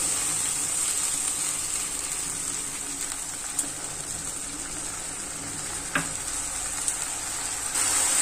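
Mustard paste mixed with salt and turmeric sizzles in a hot pan, a steady, moderately quiet frying hiss with a few light clicks and stirring knocks, no voices.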